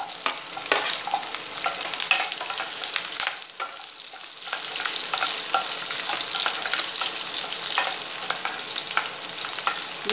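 Curry leaves and onion fry in hot oil, giving a steady bright sizzle with intermittent crackles and stirring scrapes, briefly quieter midway before swelling again.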